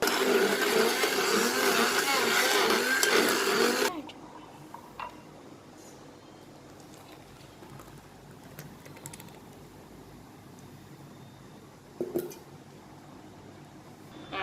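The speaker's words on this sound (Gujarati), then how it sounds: "હવે આપણે આને બ્લેન્ડર મારી અને બધું મિક્સ કરીશું" A blender whirs loudly for about four seconds, mixing a chikoo milkshake, then cuts off, leaving quiet kitchen noise with a soft clatter near the end.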